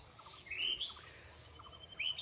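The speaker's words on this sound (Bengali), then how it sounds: "আচ্ছা, পাখির ডাক শোনা যাচ্ছে।" Birds chirp and call outdoors in a natural setting, several quick high tweets coming in short bursts at moderate distance over faint ambient noise.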